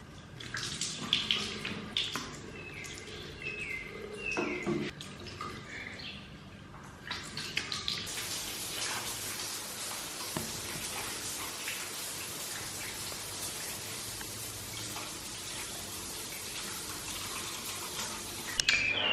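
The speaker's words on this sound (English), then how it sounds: "I'm about to wash my face, dip into the shower" Water runs steadily in a bathroom during face washing and a shower, a broad constant hiss that swells louder partway through and continues unbroken, with no talking.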